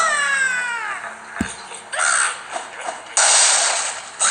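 Cartoonish birds squawk and caw in the Angry Birds video game, a harmonic squeal at the start followed by a thud and bursts of noisy crashing and chirping effects.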